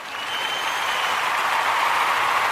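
Dense round of audience applause builds quickly and holds steady, loud and continuous with no voices over it.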